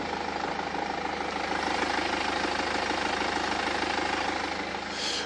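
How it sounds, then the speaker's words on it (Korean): A BMW X3 diesel engine idles with the hood closed, a steady, smooth, fairly quiet drone that holds constant throughout with no talk over it. "굉장히 정숙한 엔진 소음을 기대하실 수가 있습니다"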